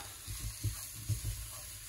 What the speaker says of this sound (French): Donc je mets la farine